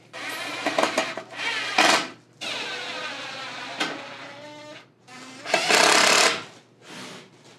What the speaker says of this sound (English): screw it in with some of those wood screws